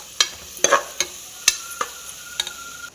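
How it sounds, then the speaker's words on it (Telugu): Ginger garlic paste with salt frying in a pan for vegetable rice: a spatula scrapes and taps the pan about seven times over a faint, constant sizzle, loud and close. "అల్లం వెల్లుల్లి పేస్ట్ వేసుకొని బాగా వేయించుకోవాలి."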